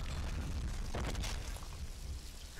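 A C4 explosion in the Deadpool video game, a heavy rumbling boom with a burst of noise near the middle, rolling on beneath a constant low roar and fading slightly toward the end.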